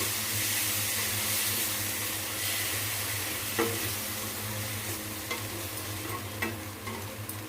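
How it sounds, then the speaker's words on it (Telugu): Punarnava greens being stirred in a hot pan, a steady broad frying hiss with a few light spoon clicks against the pan, close and continuous with no talking. "బాగా కలుపుకుంటామండి"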